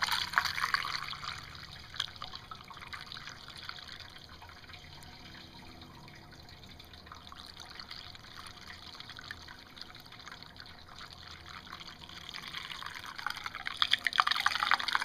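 Warm water pours and trickles steadily into a car's cooling system after heater core hose work, a continuous splashing fill that swells slightly louder toward the end, with no talking.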